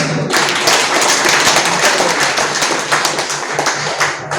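A crowd at a ward association speech claps loudly and continuously. The dense, sustained applause rings close, then fades slightly toward the end.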